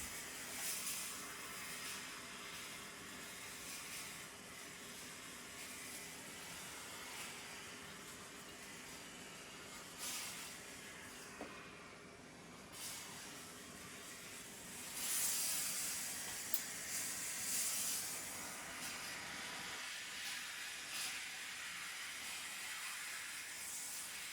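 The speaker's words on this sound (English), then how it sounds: "So I'm going to go ahead and steam this." A portable garment steamer steaming clothes gives a steady, broad hiss of steam that runs continuously for the whole stretch, with slight surges and dips in intensity.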